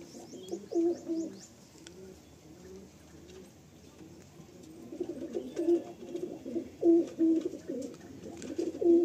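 Pigeons from a bloodline breeding stock coo in a loft, low throaty calls repeating in uneven bursts, faint at first and growing fuller and more frequent toward the end.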